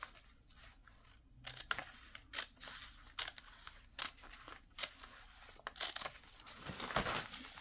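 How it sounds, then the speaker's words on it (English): Scissors trim the edge off a piece of junk journal paper in a run of crisp, close snips, mixed with soft crinkling and rustling of the sheet. No talking. "I'm gonna cut the whole thing"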